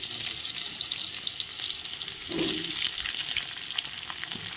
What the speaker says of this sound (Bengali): মাথাগুলো এখন উঠে দেবো একই তেলে আলুগুলো ভেজে নেব